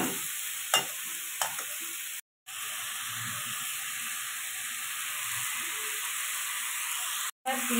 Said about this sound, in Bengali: এখানে ঢেঁড়সটা ভাজা হচ্ছে, আলতা আছে, গ্যাসটা একটু হালকা করে রেখেছি, অল্প তেলে ভাজা করছি